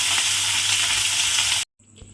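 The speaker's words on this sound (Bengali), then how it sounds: "তেলের মধ্যে অল্প অল্প মাছ দিয়ে সমস্ত মাছগুলো আগে লাল করে ভেজে তুলে নিতে হবে" Fish pieces fry in hot oil with a loud, dense, continuous sizzle close by, cutting off abruptly near the end to near silence.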